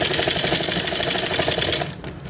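A sewing machine stitches kurti fabric in a fast, steady, close-up run of rapid needle strokes that stops abruptly near the end.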